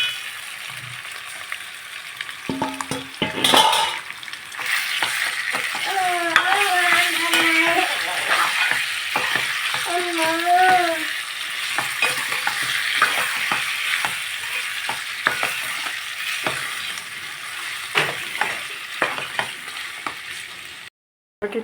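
Chicken frying in a pan with ginger-garlic paste, sizzling steadily while a spoon stirs and scrapes in repeated strokes, with occasional clinks and someone talking over the cooking.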